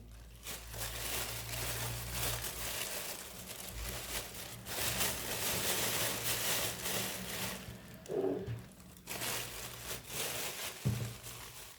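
Two nested plastic bags crinkle and rustle as labneh cheese is wrapped to keep out air, a near, uneven crackling in bursts with brief pauses.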